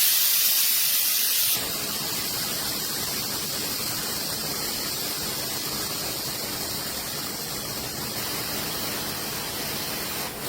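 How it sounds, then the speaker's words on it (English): A pressure cooker of mutton and potato curry has its steam released by hand: after a quiet moment, a loud, steady, close hiss bursts out and continues unbroken to the end. "I am releasing the steam."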